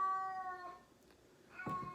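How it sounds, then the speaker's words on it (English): A female house cat meowing in protest at being kept indoors, a drawn-out whining yowl followed after a pause by a second louder cry, close by with no talk. "The kitty's really mad. She wants to go outside and she can't go outside, so she's just throwing a fit."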